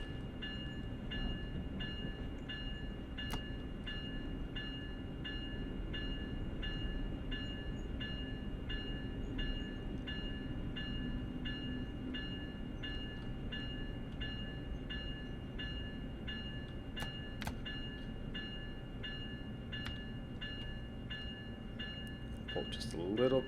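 An Amtrak ACS-64 electric locomotive in the Train Sim World game rolls along the Northeast Corridor near New York with a steady rumbling drone, faint rail clicks and cab tones throughout, ending in a short rise.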